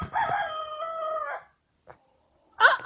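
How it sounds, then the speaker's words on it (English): A rooster lets out one long crow up close, followed by a pause, a faint peep and then a sudden loud squawk from the chickens. "today I am saying hi to chickens"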